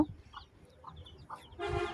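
A desi hen clucks a few times among her chicks in a farmyard, short close clucks ending in a louder burst, with faint higher peeps around them.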